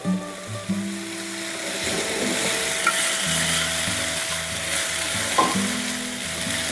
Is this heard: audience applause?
no